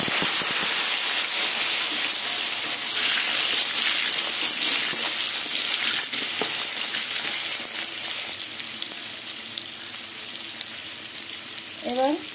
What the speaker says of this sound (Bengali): এবার এই তেলের মধ্যে আলুগুলো ভেজে নেব